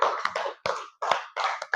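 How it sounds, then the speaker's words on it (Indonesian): A class of students claps their hands together in several short, loud bursts separated by brief pauses, with the applause coming close and without any speech. "tepuk tangan dulu untuk kita semuanya"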